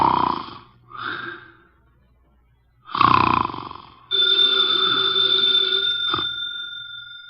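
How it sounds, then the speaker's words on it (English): A heavy man snores twice through his nose in an old-time radio drama, each a short nasal rasp with a pause between. A continuous telephone bell then starts ringing loudly and carries on. "he's making sounds through his nose."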